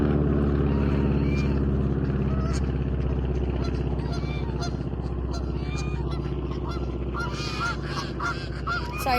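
A large flock of geese, with ducks among them, honks loudly and without pause outdoors, calls overlapping over a steady low rumble for the whole stretch, with no talking.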